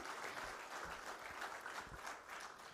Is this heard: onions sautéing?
no